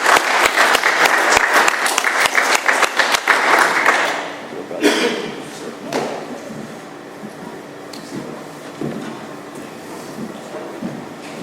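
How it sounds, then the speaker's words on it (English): Audience applause at an Alcoholics Anonymous meeting, a dense burst of clapping that lasts about four seconds and then quickly dies away, leaving only quiet room noise. "Just give Will a round of applause,"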